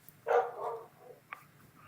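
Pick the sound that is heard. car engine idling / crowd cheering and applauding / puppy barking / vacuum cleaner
puppy barking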